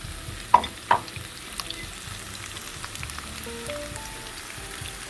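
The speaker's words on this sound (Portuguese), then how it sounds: "Estou refogando numa frigideira grande, larga" Broccoli, fresh peas and whole garlic cloves sauté in a large, wide frying pan, giving a steady soft sizzle with two sharp utensil knocks near the start.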